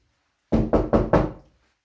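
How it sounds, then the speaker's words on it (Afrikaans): Four firm knocks on a door in steady succession, close and loud, each ringing briefly before fading into silence, with no voices. "met die klop aan die deur"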